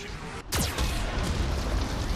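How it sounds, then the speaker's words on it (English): A heavy space-combat cannon fires in Mass Effect 2, one loud booming blast with a descending whoosh after a brief hush, followed by a dense roar of rumbling battle noise. "That is a serious cannon."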